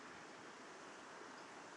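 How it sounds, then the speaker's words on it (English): Steady rushing water overflowing in Queen's Park, Longton, Stoke-on-Trent, pours and splashes continuously, a dense broadband wash with no pauses and no voices. "just showing this nice sound of running water while it's overflowing"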